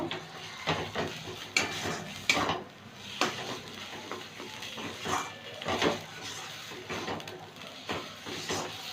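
Bottle gourd leaf paste in a pan on the stove is stirred together with raw oil, giving a continuous run of scraping, stirring strokes over a low, steady sizzle.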